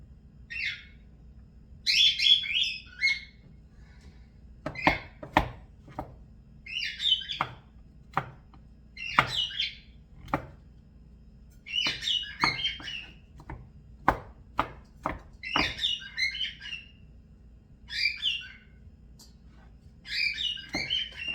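Button mushrooms being minced with a knife on a cutting board for cream of mushroom soup, with sharp, irregular chops close up and birds chirping steadily in the background.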